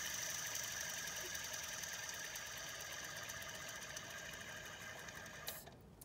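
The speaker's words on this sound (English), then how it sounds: "Now the bearings in this tensioner pulley here are completely gone." A running BMW N42/N46 engine with worn tensioner pulley bearings gives a steady, rapid mechanical chatter and whir at close range, continuous until it cuts off near the end.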